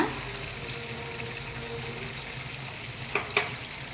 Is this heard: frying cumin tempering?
yes